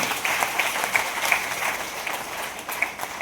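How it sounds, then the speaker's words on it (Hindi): Audience applause at an RCM meeting in Haryana, a steady wash of clapping from a crowd filling the whole stretch at moderate level, with no clear talk on top. "एक बार जोरदार तालियां हो जाए आसिम के लिए"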